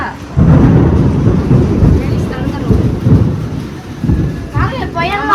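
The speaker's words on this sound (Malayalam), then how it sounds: "മഴയുടെ ഇടിവാൾക്ക് ഭയം" Loud rumbling thunder rolls through steady rain, with a few brief voices mixed into the noisy downpour.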